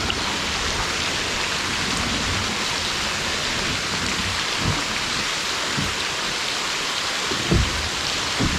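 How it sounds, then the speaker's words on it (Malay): Heavy rain falls steadily around a kayak at sea near Pulau Bunting, Malaysia, a dense continuous hiss with occasional low thumps from drops or waves. "Hujan."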